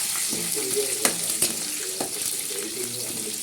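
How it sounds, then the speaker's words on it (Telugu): Cashews and green chillies fry in crackling oil in a pan, a steady close sizzle with a few sharp pops and light stirring clinks. "నూనె చెట్పట్లాడుతుంది పచ్చిమిర్చి పడతానే ఇప్పుడు మనం కొద్దిగా జీడిపప్పు ఇందులో యాడ్ చేసుకుంటున్నాము జీడిపప్పు కూడా ఫ్రై అయిపోద్ది"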